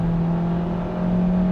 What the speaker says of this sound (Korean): 지금 얘도 엔진 소리가 4기통 소리긴 합니다